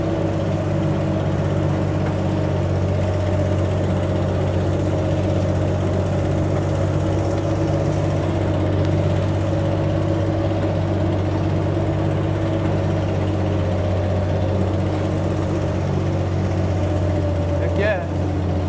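A vintage Willys Jeep engine crawls uphill in low gear on an off-road trail at Wildomar OHV, giving a steady, loud, low droning hum that holds unchanged throughout.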